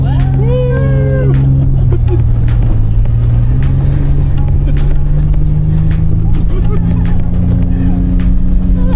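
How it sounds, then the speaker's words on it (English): A 4x4 truck engine roars loudly and continuously as it climbs a steep sand dune at Sandwich Harbour, Namibia, with wind and rattling noise throughout and voices briefly audible early on. "the engine roared and we surged forward, accelerating up the steep slope"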